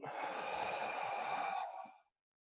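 A long, steady, breathy exhale during a qigong breathing exercise, close and audible for about two seconds before cutting off into silence.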